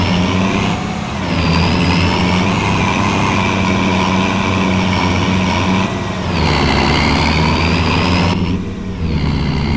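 A Kenworth truck engine runs loud and steady on a farm, heard from inside the cab with a deep, constant drone whose pitch rises and falls as it revs, with no voices over it.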